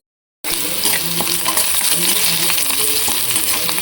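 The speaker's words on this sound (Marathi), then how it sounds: "कांदा कढीपत्त्याची फोडणी दिली आहे." Chopped onion and curry leaves fry in hot oil with mustard seeds and cumin for a wet cashew curry, a dense, steady sizzling hiss that starts abruptly after a brief silence and continues close up.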